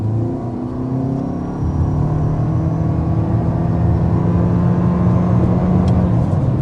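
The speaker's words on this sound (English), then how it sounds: "Alright, that was 60 miles per hour, going a bit downhill with this ES 350H." A 2026 Lexus ES 350h hybrid accelerating to 60 mph slightly downhill, a steady, rising engine and motor hum with road roar heard from inside the cabin, loud and continuous without speech.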